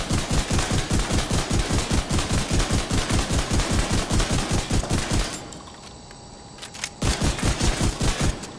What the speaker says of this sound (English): This is center mass shooting here.